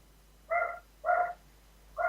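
A dog barks three times in a steady rhythm, with clear, evenly spaced, moderately loud barks over a quiet indoor background.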